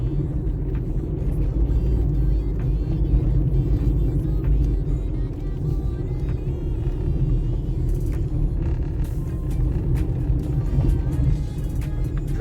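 A car driving at night along a dark, bushy rural road in Jamaica, a steady low engine and road rumble heard from inside the vehicle, continuous and unbroken with no talking.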